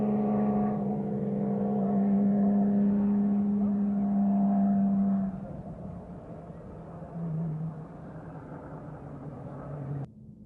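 Porsche race cars drive on a wet track, engines droning loudly with a rising pitch before fading and dipping, a second car's hum passing midway, with spray-like hiss beneath.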